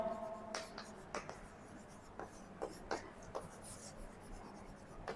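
A teacher writes a statement on a board during a biology lesson, with faint, scattered scratchy strokes in short bursts against a quiet room.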